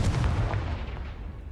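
Confringo fire spell cast in Hogwarts Legacy, a deep, explosive boom with a long rumbling tail that fades over a second and a half, alone.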